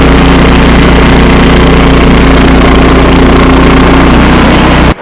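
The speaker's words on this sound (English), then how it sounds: "I've been on the tractor here for like 2 hours plowing." A tractor engine runs loud and close while plowing snow on a cold, windy farm, a steady droning rumble that holds throughout before cutting off abruptly at the end.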